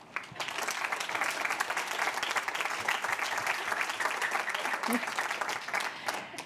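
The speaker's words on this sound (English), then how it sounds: "Please give them a big round of applause." Audience at a pitch event plenary applauding, dense lively clapping that rises quickly, holds strong for several seconds and begins to fade near the end.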